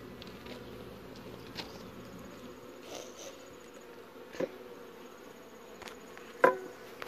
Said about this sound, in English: All the bees are having their, little tongue and trying to, drink all the nectar that's left.